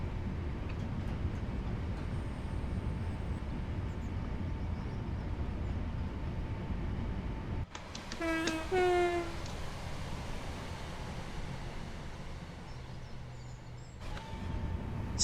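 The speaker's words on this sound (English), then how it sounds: "I do like the sounds of the 323." Class 323 electric commuter train on the Glossop Line in Train Sim World 5, a steady rumbling run broken by a sudden shift with a rising electronic whine and tones, then the rolling noise resumes.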